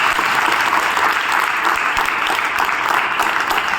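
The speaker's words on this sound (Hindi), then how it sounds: "ताली बजा के समर्थन करो" An audience at a temple gathering in Freeganj claps loudly and without pause, a thick wash of many hands that stays steady the whole time and is heard without talk.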